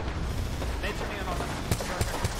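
Rapid gunfire pops and bursts in an Apex Legends match at a TwitchCon 2019 Twitch Rivals showdown, a dense mix of shots with a few sharper cracks near the end, heard under a caster's commentary.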